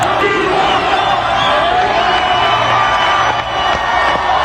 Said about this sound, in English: Everybody's screaming right now.